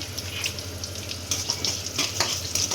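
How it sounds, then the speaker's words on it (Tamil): Garlic cloves and green chilies fry in hot oil, a close, continuous hissing sizzle with a few louder bursts of spattering near the end. "பூண்டு அப்படியே கொஞ்சம் வதங்கட்டும்."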